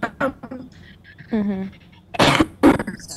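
Amid a few spoken words, a quick sneeze-like burst sounds, followed by a second short burst close by.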